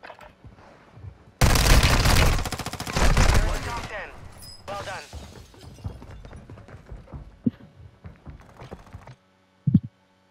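Heavy bursts of automatic gunfire from a Call of Duty match, loud and dense for a few seconds, then sparser shots and mechanical clatter with talk mixed in, ending in near-silence broken by one short thump.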